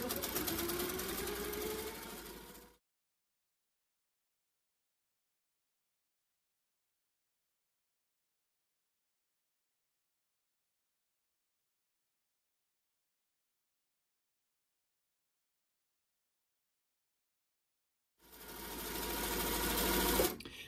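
A sewing machine runs fast while quilting a flower block, giving a close, rapid mechanical whir in two short bursts separated by a long stretch of silence.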